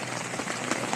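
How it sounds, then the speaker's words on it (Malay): Rain falling steadily on Gunung Silipat, a mountain in Thailand, a dense close patter of drops filling the whole short stretch without pause. "Tengok guys, Selipat hujan tu."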